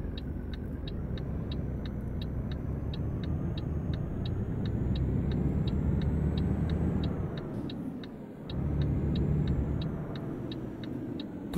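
Heavy Mercedes Actros 8x4 truck engine in a driving game, rumbling low and steady while reversing under a 75-tonne load, with a regular high reversing beep ticking throughout and a brief dip in engine roar near the end.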